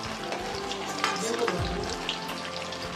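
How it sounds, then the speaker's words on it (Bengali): Paneer frying in a pan, a steady close sizzle with soft stirring and clinks throughout, over low background hum. "আমি পনির ভাজছি"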